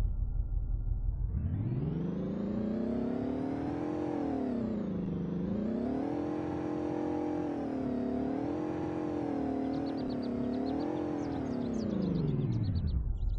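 A truck engine in the Roblox game Greenville idles briefly, then revs up and holds high, rising and falling in smooth waves for several seconds before settling, loud and close with no talk.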